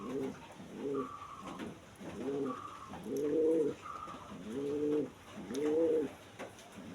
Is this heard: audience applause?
no